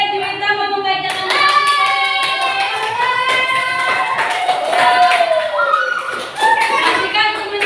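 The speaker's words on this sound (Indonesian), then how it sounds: "Ya, tepuk tangan." A classroom of children clap their hands in a quick, rhythmic burst while a voice speaks and sings over them, the claps fairly close and loud.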